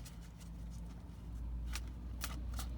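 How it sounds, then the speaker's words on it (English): Tarot cards are shuffled by hand close by, a few quiet riffling bursts over a low steady hum, faint and spaced apart. "I'm just, like, constantly shuffling back here if that's what you guys hear"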